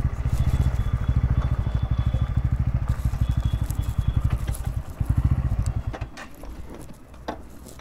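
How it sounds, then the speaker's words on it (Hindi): A motorcycle being parked, its engine running at idle with a steady rapid thumping pulse, close and fairly loud, easing off and fading toward the end as the bike settles. "तो चलेगा इस बाइक को यहाँ फिलहाल पार्क करते हैं।"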